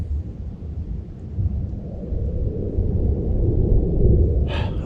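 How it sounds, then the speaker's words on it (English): A heavy low thunder rumble rolls on over steady rain at a deer camp, growing slightly louder toward the end, with a short higher noise burst at the close. "we're not going to go out until the rain calms down"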